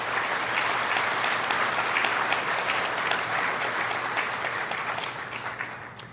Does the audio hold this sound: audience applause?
yes